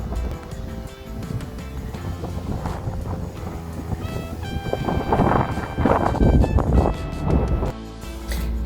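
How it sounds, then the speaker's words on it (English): Gusty wind roars across an open outdoor site, with banners flapping and rustling in steady, loud bursts that swell toward the middle and ease near the end. "You can see their banners flapping in the wind."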